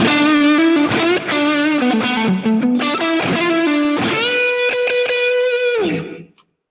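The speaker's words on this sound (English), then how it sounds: "Then you can add on some reverb for a little bit of vibe." Electric guitar through a Chase Bliss reverb pedal, loud picked phrases of notes and chords with a washy, slightly distorted sustain, ending on a long ringing chord that cuts off and tails into silence.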